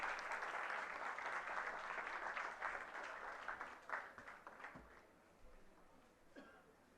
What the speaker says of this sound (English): A huge round of applause for the esteemed dignitaries.